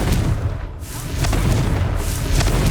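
The Confringo blasting spell from Hogwarts Legacy goes off as a loud, continuous booming explosion with a deep rumble and crackling bursts.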